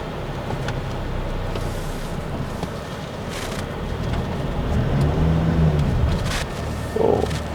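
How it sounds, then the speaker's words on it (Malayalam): An MG Majestor SUV crawls off-road with its rear differential lock engaged, a steady low rumble blended with wind buffeting on the microphone, swelling slightly toward the end with no voices. "ഇപ്പോൾ നമ്മൾ ബാക്കിലത്തെ ഡിഫറൻഷ്യൽ ലോക്കും കൂടി എൻഗേജ് ചെയ്യിച്ചിട്ട് വണ്ടി പുറത്തേക്ക് എടുത്തു"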